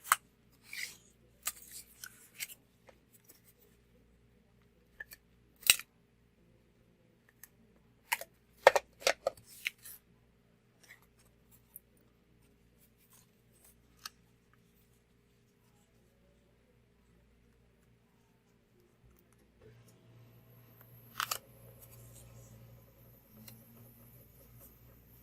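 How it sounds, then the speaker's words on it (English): Scissors snip paper for a gold foil flake craft project in short, quiet, scattered cuts, with near silence between them. Faint rustling follows later. "And we'll snip it off."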